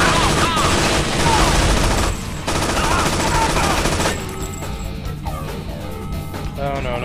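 Turret gunfire in a sci-fi shooter set at a refinery: loud, rapid bursts of shots with crashing impacts for about four seconds, then the shooting thins out into lighter game sounds.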